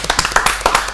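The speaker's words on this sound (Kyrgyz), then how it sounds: "Кол чаап коелу." A studio audience on a comedy talk show breaks into clapping, a quick run of sharp, close hand claps filling the short moment.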